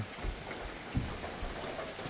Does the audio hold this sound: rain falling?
yes